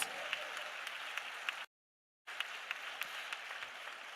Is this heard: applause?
yes